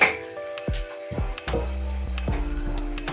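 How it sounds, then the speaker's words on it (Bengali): Luchi, the puffed fried bread, frying in hot oil in a kadai. A steady sizzle runs throughout, broken by a few clinks and scrapes of the utensil. "লুচি ভাজা শুরু হয়ে গেছে।"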